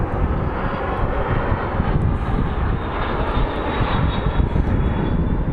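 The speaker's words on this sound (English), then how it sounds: "I'm excited to see this MD-11" A McDonnell Douglas MD-11 airliner at Phoenix Sky Harbor airport gives a loud, steady jet engine roar that fills the whole stretch without a break.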